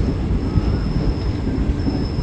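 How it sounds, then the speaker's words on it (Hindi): A meter gauge passenger train runs along small-line rails near Mailani Junction, giving a continuous rumbling roll of wheels on track with a faint high metallic squeal, heard from on board and steady throughout. "और ट्रेन हम लोगों की अब पहुंच रही है मैलानी जंक्शन पर"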